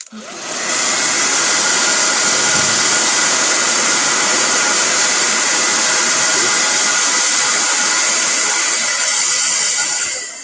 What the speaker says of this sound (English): I got the hair dryer out here to dry the rocks.